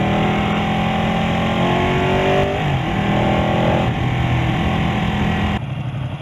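Ducati Panigale 1299 motorcycle engine running loud and steady, with pitch sweeps as the revs rise and fall through gears, continuous throughout and dropping slightly near the end.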